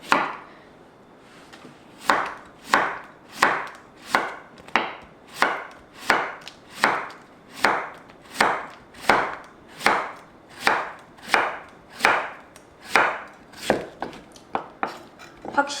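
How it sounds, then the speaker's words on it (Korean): A knife julienning a cucumber on a wooden cutting board gives about twenty steady, evenly spaced chops that are close and crisp and heard alone. "오이 한 개 채 썰어줄게요"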